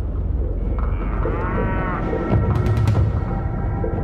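Cattle in a cow pasture north of Phoenix: a single drawn-out moo rises over a busy outdoor background, followed by a few sharp clattering knocks.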